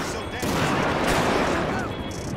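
Gunfire in GTA 5, dense rapid bursts of shots mixed with sirens or whistling tones, loud and continuous with a voice talking over it.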